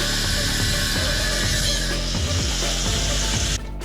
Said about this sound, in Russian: начал пилить